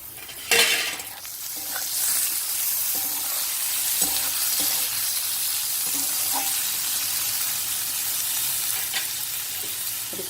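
Browned onions and freshly added tomatoes frying in a pan, a steady close sizzle with one loud hiss at the start and occasional spoon scrapes and taps.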